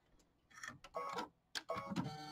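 An embroidery machine stitches in bursts, a close whirring, buzzy mechanical run that starts and stops in short segments, moderately loud with no speech.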